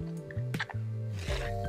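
An underwater fish light with its cord is lowered into a container of vinegar, giving close wet squishes, drips and a short slosh over a steady low tonal hum.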